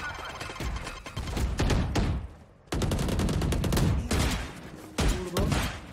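Rapid bursts of gunfire in the tactical shooter Valorant, dense and loud with short pauses between volleys, close and punchy throughout, with no talking over it.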